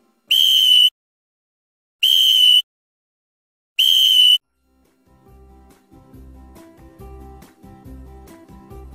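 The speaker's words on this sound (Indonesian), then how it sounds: "Dan bunyi peluit." Three sharp, high whistle blasts spaced evenly apart, followed by a soft stretch of rhythmic low tones.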